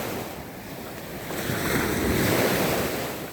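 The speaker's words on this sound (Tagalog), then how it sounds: "Naririnig mo ang mga alon na humahampas sa baybay" Sea waves wash and break against a beach in a steady continuous roar, swelling louder midway with wind noise across the microphone and no voices.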